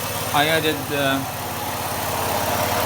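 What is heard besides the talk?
2010 Ford Escape engine running cold after water pump install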